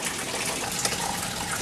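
Rainwater gushing onto a house floor during a storm, a dense, steady, loud rush of pouring water with no break.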